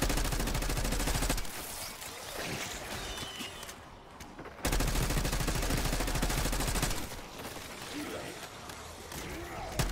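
Rapid gunfire from a gun in the Black Ops 6 Zombies shooter game rattles in dense bursts, loud and close, with a short break midway and voices talking over the shooting.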